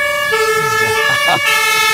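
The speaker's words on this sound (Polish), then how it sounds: "Syreny, syreny!" A siren wails continuously with steady high tones, loud and close, while voices and engine rumble mix in beneath.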